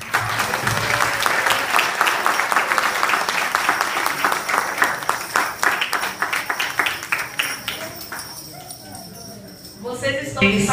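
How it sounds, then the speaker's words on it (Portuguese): An audience claps for baby Jesus after a family Christmas nativity play, a lively run of close, rapid clapping that thins out and fades near the end, with some voices and background noise mixed in. "Vamos parabenizar o menino Jesus com uma salva de palmas."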